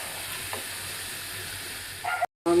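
Spice paste with chilli powder sautéed for a sweet-sour dried jujube pickle, a steady close sizzle with a few spoon scrapes, then a brief cut and the frying resumes.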